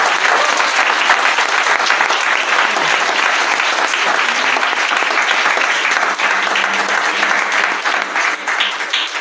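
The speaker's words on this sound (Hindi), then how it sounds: "आइए जोरदार ताली प्रभु यीशु मसीह के लिए बजाएंगे।" A church congregation at a Hindi Christian sermon claps loudly and steadily, dense sustained applause filling the whole stretch without a break.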